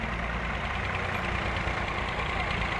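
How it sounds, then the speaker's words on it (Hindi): A tractor engine labors steadily while climbing an earthen slope toward a bridge near a river, a loud, continuous low rumble with no break in its throb. "ये ट्रैक्टर चढ़ता पे"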